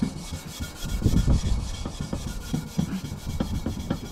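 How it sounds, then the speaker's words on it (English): The dirty, pitted parts of a Volvo F7 truck being rubbed with a grey Scotch-Brite pad and Zephyr, heard as close, uneven back-and-forth scrubbing strokes with no talking. "using a Scotch-Brite with some Zephyr on cleans them up really quick and really nice"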